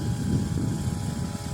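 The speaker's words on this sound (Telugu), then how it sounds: "ఆ మోటార్ పంప్ సౌండ్ అయితే ఉంది." A petrol motor pump runs steadily while pesticide spraying is under way on a soybean field, a loud, constant low engine drone with a slight throbbing, close by and with no voices over it.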